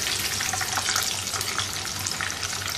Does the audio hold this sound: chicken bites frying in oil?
yes